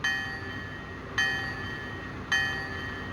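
The electronic bell of a Bachmann Sound Value 4-4-0 Jupiter model locomotive clangs three times at a steady, slow pace, each ring sharp and then fading, with a low mechanical hum underneath.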